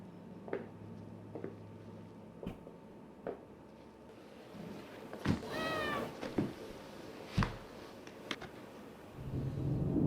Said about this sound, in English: Alex, what are you gonna do with the cat?